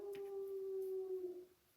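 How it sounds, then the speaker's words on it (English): Single sustained howl from a hound dog, a thin steady tone held for over a second before fading, faint and distant-sounding, with no one talking over it. "he sounds like a hound dog"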